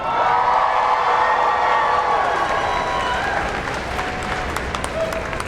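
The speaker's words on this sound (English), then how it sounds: "Please give your biggest round of applause you could possibly imagine for the star of Sabrina Teenage Witch" A studio audience bursts into loud, sustained applause, cheering and whoops as Melissa Joan Hart, star of Sabrina the Teenage Witch, is introduced at a cast reunion, a dense roar that holds steady throughout.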